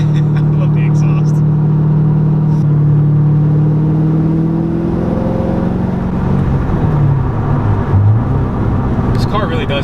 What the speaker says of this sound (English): I love the exhaust.